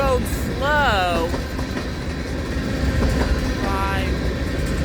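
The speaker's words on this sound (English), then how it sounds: "That train was going slow." A BNSF freight train passes slowly, led by a Warbonnet C44-9W locomotive, with a steady rumble of rolling cars and a horn call sounding twice over the continuous noise.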